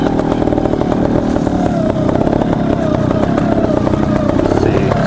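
A dirt bike engine revs steadily while warming up, a loud, close, continuous buzzing drone with a rapid firing rhythm throughout and no voices over it.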